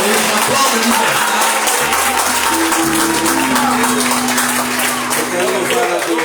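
A congregation applauds during an evangelical men's church service, dense continuous clapping filling the room alongside sustained keyboard or organ tones underneath.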